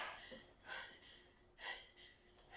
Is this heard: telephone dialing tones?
no